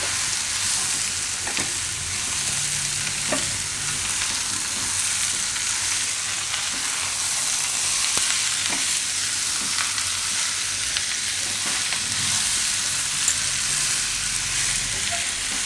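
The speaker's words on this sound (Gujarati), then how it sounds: "તો કેરીને પાકતા બહુ વાર નથી લાગતી થોડીક વાર પકાવી લે હું આપણે વચ્ચે વચ્ચે હલાવતા" Mango and bitter gourd curry for a Gujarati keri karela shaak sizzles steadily in the pan, with occasional light scrapes and clicks from stirring running through the constant frying hiss, no voices.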